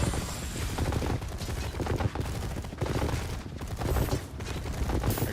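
Units fire marking rounds in the Tempest Rising strategy game: steady, rattling bursts of rapid gunfire that run nonstop at a constant loud level.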